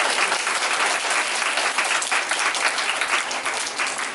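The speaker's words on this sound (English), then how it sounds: "Can we give one more great big round of applause for that wonderful song?" Dense, steady applause from an audience at a 2021 Flag Day ceremony, following a song, sustained evenly and fairly loud throughout with no voices on top.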